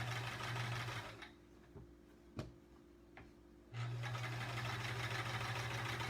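A sewing machine stitching during free-motion quilting runs in a steady fast whir, stops for a couple of seconds with a few small clicks, then starts again, close and moderately loud.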